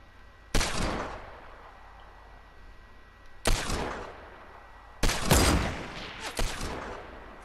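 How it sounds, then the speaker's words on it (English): Gunfire in the Fortnite video game arrives in three separate loud bursts of rapid shots, each a crackling volley that decays quickly into a quiet background hum. "They're probably firing at me."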